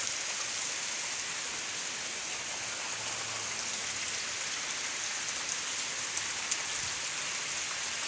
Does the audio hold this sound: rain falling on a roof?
yes